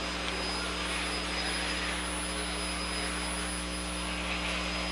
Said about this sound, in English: The remainder of the field stands on the throttle with Burt Marvin out front